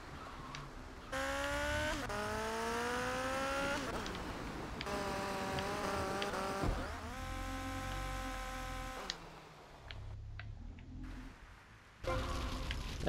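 A motorbike in GTA Vice City races over dirt ramps, its engine whining and sliding up and down in pitch with each jump, dropping away at landings, loud and alone.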